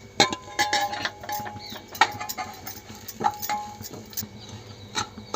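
Small cashew pieces being fried in ghee in a pan, with a spoon stirring them and giving irregular metallic clinks and scrapes against the pan over a faint sizzle, close and moderately quiet, with no talking.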